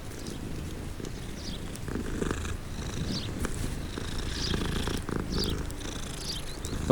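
A cat purrs steadily and continuously in the video game Hogwarts Legacy, a close, low rumble running throughout with faint higher chirps scattered above it.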